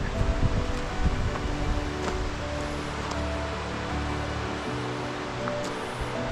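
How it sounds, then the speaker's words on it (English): A creek below a mountain trail beneath rugged cliffs on the Idaho Centennial Trail gives off a steady, broad rush of flowing water that holds an even level throughout, with a few faint thumps and rustles near the microphone. "There's the creek below us again."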